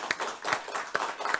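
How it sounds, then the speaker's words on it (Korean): Church congregation clapping together to welcome newcomers at a Sunday service, a moderately distant, irregular patter of many hands. "우리 환영하면서 박수 한번 하겠습니다"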